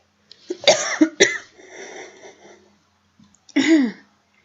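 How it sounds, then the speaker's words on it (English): A short coughing spasm bursts out in a few harsh hacks, then a rougher throaty stretch, and after a pause ends in one final loud cough, all close and with no talk. "I had a little bit of a coughing spasm there."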